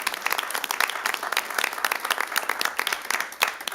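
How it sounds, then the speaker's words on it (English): A round of applause for the mayor fills a city council meeting chamber, a roomful of hands clapping steadily and fairly loudly for a few seconds with no talk over it. "And one last round of applause"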